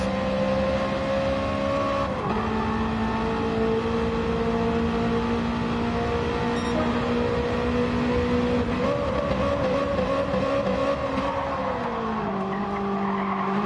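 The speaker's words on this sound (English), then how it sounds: "the engine braking used there" A race car engine drones steadily at high revs with pitch shifts as the driver brakes on the engine, loud and continuous from a circuit race, with no talk.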